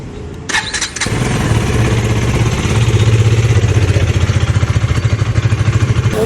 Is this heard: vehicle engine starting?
yes